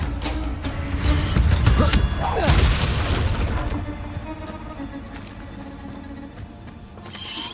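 Spells cast in the Hogwarts Legacy video game burst out as heavy booms, a whooshing sweep and crashing impacts, loudest early on and then settling into a lower rumbling tail.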